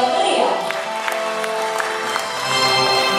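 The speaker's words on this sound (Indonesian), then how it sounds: "Sekali lagi kami mohon tepuk tangan yang meriah." Audience applause at the opening ceremony of the Indonesian Hajj and Umrah organisers' association (SAPUHI) 2023 gathering: a steady, loud wash of clapping that lasts the whole moment and is layered with sustained tonal sound, likely music.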